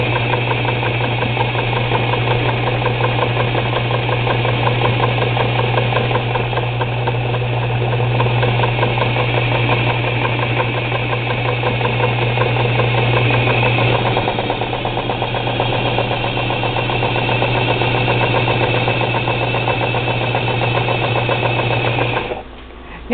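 A sewing machine quilting two-inch quilt squares at a wheelchair-friendly sewing table runs in a steady, even mechanical hum and rapid stitching chatter for over twenty seconds, then stops abruptly at the end.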